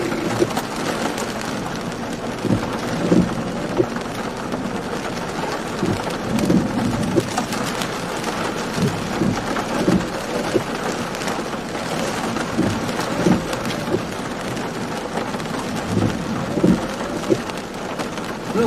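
Heavy East Texas downpour in a thunderstorm, a steady close roar of rain drumming on surfaces with low rumbling thunder underneath throughout, no voices.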